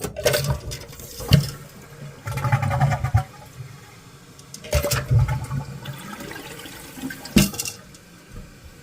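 Toilet tank flushing and refilling after a repair to a broken toilet, with repeated surging rushes of water and gurgling bursts between quieter trickling refill, heard up close.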